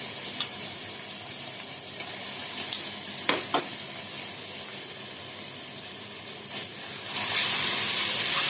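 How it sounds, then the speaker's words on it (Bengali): Onions half-fried in a pan with ginger and garlic added, for a one-kilogram rice dish, give a steady close sizzle with a few sharp clicks of utensils, swelling into a louder hiss near the end. "পেঁয়াজ অর্ধেক ভাজা হয়ে গেছে। আমি এখন আদা রসুন দিব"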